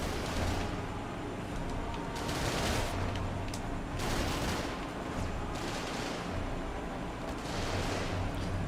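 Shooting in a Marvel's Spider-Man video game scene, loud dense rattling gunfire in sustained bursts and volleys filling the soundscape with swelling pulses, close and continuous with no pause.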